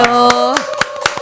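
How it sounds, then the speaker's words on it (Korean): Sparse, evenly spaced hand claps, roughly four per second, welcome a Democratic Party lawmaker as a guest on a political talk show with a studio audience; a voice speaks a greeting over the crisp, fairly close claps. "박수로 환영하겠습니다"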